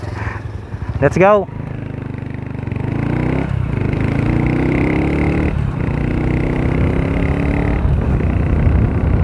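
Several motorcycles, including a Rusi 125 riding alongside big bikes that may be Ducatis, drone steadily at close range, with engine revs rising and shifting after a brief voice near the start.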